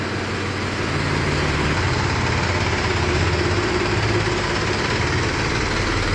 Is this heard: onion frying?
no